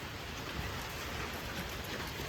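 Steady rain falls on a winter day outdoors, a continuous, even hiss of drops without pauses.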